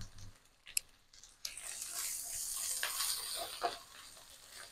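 Fresh curry leaves dropped into hot oil with ginger garlic paste for a bottle gourd curry burst into a bright, continuous hissing sizzle after a quiet start, with faint clicks in between.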